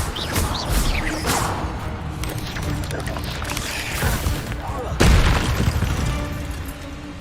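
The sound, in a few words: Levioso spell cast effect in video game Hogwarts Legacy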